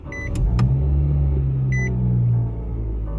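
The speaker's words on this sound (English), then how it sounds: "so now I'm in the car" Steady low interior rumble of a car driving, loud and continuous, with a couple of short high beeps near the start and another brief beep midway.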